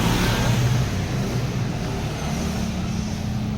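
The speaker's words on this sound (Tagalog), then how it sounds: "Kung makikita nyo, marami dumadaan dyan ng mga sasakyan" Vehicles driving past the front of a roadside car-wash business, a continuous loud roadway rumble with trucks and cars going by close, a brief brake hiss near the start and no talking.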